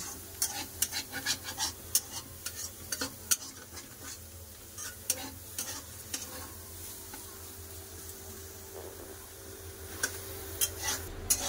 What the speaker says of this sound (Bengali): পেঁয়াজ দিয়েছি আর একটু নাড়াচাড়া করে লাগলো